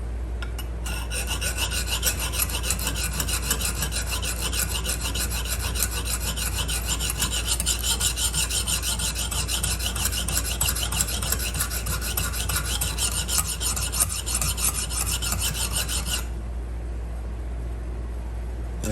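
A knife blade is stroked steadily across a Lansky sharpening system stone, giving a continuous close rasping rub with a rhythmic back-and-forth texture that stops near the end, with no talking.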